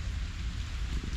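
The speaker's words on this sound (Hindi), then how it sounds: "अभी तक बारिश हो रही है।" Steady rain falls on a street in the evening, a dense, even hiss with low rumble underneath, continuous and fairly close, with no voices.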